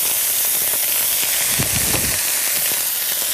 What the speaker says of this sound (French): dans une poêle, on va mettre un peu d'huile